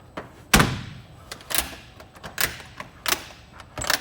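Baggage compartment door on a Citation XLS+ business jet being shut, heard as a series of sharp, loud slams and thuds spaced about a second apart, the first hit the strongest, with no talking.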